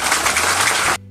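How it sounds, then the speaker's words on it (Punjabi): An audience at a school ceremony gives loud, dense applause for about a second, and the clapping cuts off abruptly into near silence. "ਤਾਲੀਆਂ ਵਜਾਓ।"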